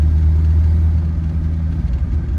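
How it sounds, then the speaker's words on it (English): A 1932 Chrysler CP8 rumble seat coupe cruising in third gear at about 35 mph, its engine a steady loud low droning rumble heard from inside the car, with no talking. "we're just cruising here in third gear"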